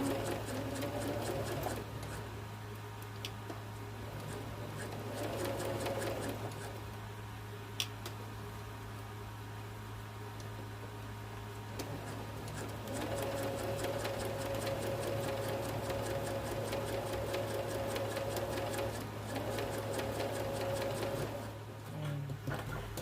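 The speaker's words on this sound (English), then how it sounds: "Okay, I have finished sewing my pockets in." Sewing machine stitching fabric pockets onto a circular knitting needle case, its steady motor whir running in long bursts with brief pauses, close and continuous throughout with no talk.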